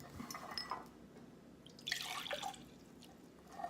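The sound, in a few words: water being poured from one container into another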